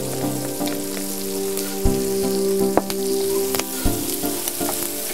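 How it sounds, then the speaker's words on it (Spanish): Garlic hitting a hot pan of browned fried squid and pepper while making a seafood paella, a steady close oil sizzle with a few sharper crackles and pops, no voices. "echamos el ajo"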